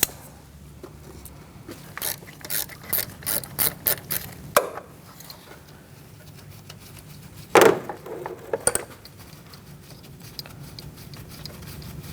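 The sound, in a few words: ratchet with 10mm socket removing a bolt, Cadillac ATS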